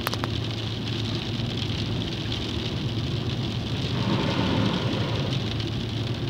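Rain heard from inside a car driving at about 40 km/h in second gear during a driving lesson, a steady broadband hiss over low engine and road rumble. No talk is heard.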